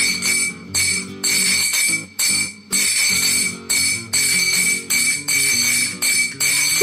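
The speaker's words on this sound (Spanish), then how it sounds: "No te lo vas a creer, pero es una botella de anís." Empty anise liqueur bottle with a printed design, struck with a fork as a percussion instrument in Verdiales folk music from Málaga: a steady, ringing metallic ting holds over a loud, rhythmic ensemble with regular pulses, no voices.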